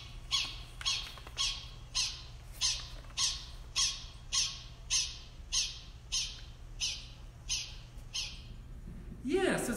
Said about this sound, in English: these little cheeps and squeaks that the prairie dogs are making